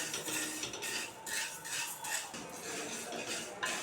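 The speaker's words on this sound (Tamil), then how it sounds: "உப்புமா செய்கிறதுக்கு இந்த உளுந்தை வறுத்து எடுத்துக்குவோம்." Black urad dal dry-roasting in an oil-free pan, stirred constantly with a utensil; steady scraping and dry rattling of the lentils against the metal, with periodic bursts of brighter scratching.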